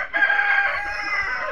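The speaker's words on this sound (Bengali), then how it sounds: "দেখেন আমাদের টাইগার মুরগ।" Tiger breed rooster crowing on a farm, one clear, close, sustained cock-a-doodle-doo call that holds steady across the whole moment.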